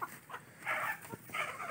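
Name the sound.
chickens clucking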